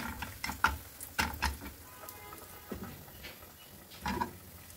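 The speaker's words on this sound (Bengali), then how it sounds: "এখন একটা শুকনো মরিচ দিয়ে দিলাম, দিয়ে দিচ্ছি গোটা জিরা" Dried chili and whole cumin seeds tempering in hot oil for masoor dal with winter radish, giving soft crackles and sparse sharp pops over a faint sizzle, alone without voices.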